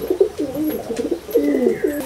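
Pigeons coo in a loft at Falta, South 24 Parganas: repeated low, throaty rolling calls, close and clear, in two bursts with a brief pause between.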